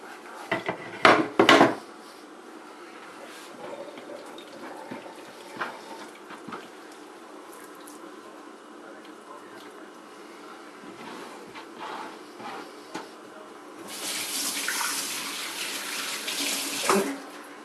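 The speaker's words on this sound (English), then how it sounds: "Rinse my hands here." A kitchen tap runs as hands are rinsed beside cutting boards, with faint dripping and splashing, a few sharp clatters of utensils early on, and a louder burst of running water near the end.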